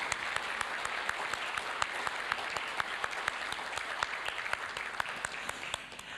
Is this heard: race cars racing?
no